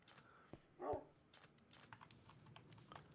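A single dog bark from the video game Minecraft rings out at moderate distance over quiet, clicky ambient noise, followed by soft scattered sounds.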